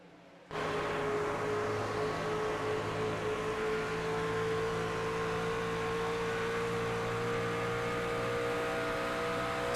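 Racing trucks roar around Homestead Miami Speedway in a championship cutoff race, one truck running right on the back bumper of the number 27 truck; a loud, steady engine drone kicks in abruptly and holds throughout.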